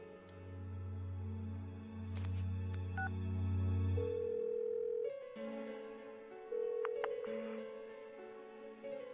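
A phone call in the game Persona 4 Golden rings through to voicemail, with steady electronic tones, a short dial-style beeping and sustained synthetic call sounds, moderately quiet beneath a musical backdrop.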